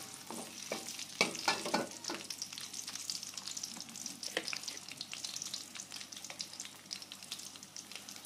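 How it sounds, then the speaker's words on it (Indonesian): Chopped garlic and kencur frying for Indonesian pecel sauce, a steady close sizzle with scattered crackles and intermittent stirring scrapes throughout, no talking. "Kemudian kita lanjut goreng bumbunya."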